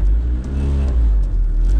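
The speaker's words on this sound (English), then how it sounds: "Just go wide open throttle real quick." A turbocharged Honda Civic engine at full throttle roars loudly and steadily, held at high revs with a strained, whirring tone.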